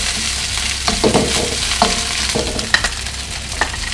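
Jasmine rice stir-fried for fried rice in a hot pan, a steady loud sizzle with scraping stirs and a few sharp clinks of a utensil against the pan, no talking.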